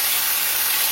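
Onions frying in hot oil in a home kitchen, a steady close broadband sizzling hiss filling the whole short moment with no pauses and no talking.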